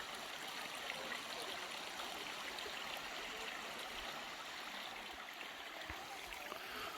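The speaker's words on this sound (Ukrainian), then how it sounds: "А дуже красиво, до речі, тут. Такий водоспадик." A small mountain waterfall stream in the Carpathians, a steady, even rush of splashing water, continuous and fairly close with no voices.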